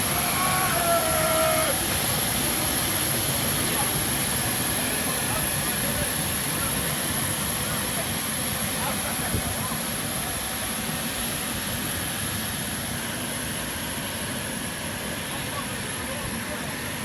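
Engines of an A321neo airliner returning to Heathrow with a landing gear door fault make a constant loud jet roar and whine that holds steady throughout, with a faint high tone above it.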